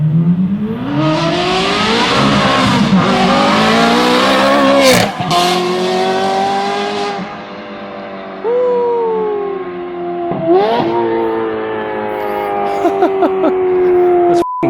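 A Ferrari 430 Scuderia fitted with an Agency Power titanium exhaust revs hard, its loud, close engine note rising and falling through several sharp pulls and quick drops with a raspy, high-pitched wail.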